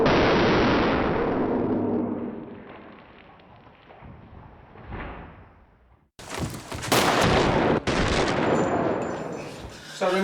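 Gunfire rings out on a film set during an action scene, a loud burst of shots decaying into echo, then a second sharp volley of rapid, close gunfire after a pause.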